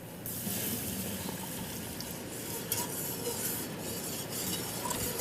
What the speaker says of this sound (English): this sauce is going to thicken up when I pour in the milk